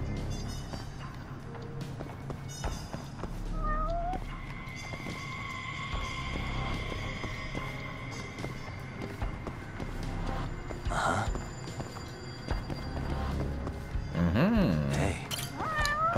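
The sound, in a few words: cat meowing in video game Judgment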